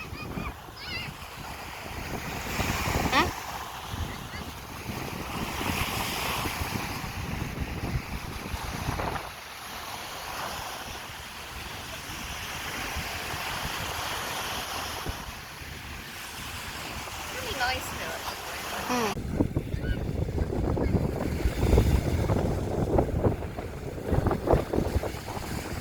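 Strong wind gusting over a beach with sea waves surging and breaking, loud buffeting rumble against the microphone rising and easing in waves, with a stronger roaring stretch near the end.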